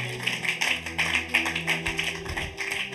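Rhythmic group clapping, steady and fairly loud, in a church Bible study gathering acclaiming the power of God's word, with sustained low musical tones underneath.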